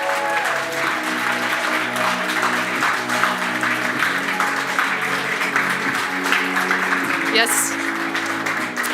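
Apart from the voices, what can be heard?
round of applause from the conference audience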